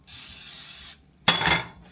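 Zero-calorie cooking spray squirted into a pan in two bursts: a steady hiss of nearly a second, a short gap, then a second sharper burst that tails off.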